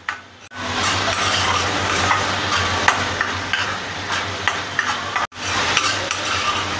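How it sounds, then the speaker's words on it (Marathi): Masala paste frying in a pan for shengole, a loud continuous sizzle with repeated scraping and tapping strokes of a spoon stirring it, a low hum beneath and two brief cut-outs. "मसाला छान तळून आले."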